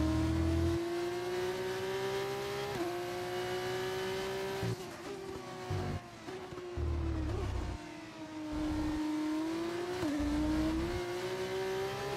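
V8 engine of an F2 car in the F1 25 racing game, a loud steady high-pitched drone that holds its tone, dipping and rising briefly with gear changes and lifts throughout.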